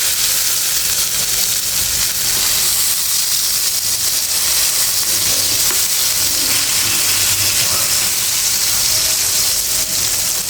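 Sliced pointed gourd (potol) sizzles steadily in hot oil, a loud continuous hiss with faint stirring and crackle throughout.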